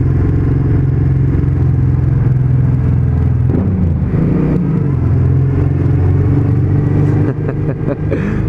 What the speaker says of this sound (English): I think my V-twin's going to sound pretty randy up inside here